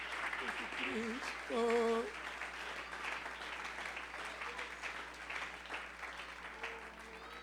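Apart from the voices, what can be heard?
congregation applauding in church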